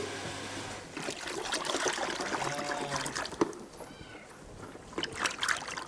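Cold water poured into a container of hotter water while mixing feed in a farmyard, a steady trickling splash running for several seconds with intermittent clatter and nearby background noise.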